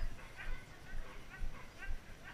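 A sled dog on a night bikejoring run whines and yips in repeated short bursts, roughly every half second, heard at moderate distance over low rumbling movement noise.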